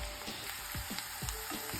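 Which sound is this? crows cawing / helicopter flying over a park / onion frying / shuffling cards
onion frying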